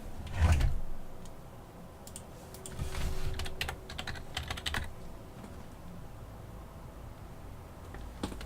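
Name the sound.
typing a message on an iPad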